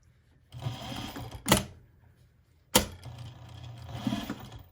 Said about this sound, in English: And then I'm going to stitch around it one more time.